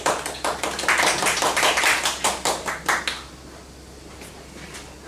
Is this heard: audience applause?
yes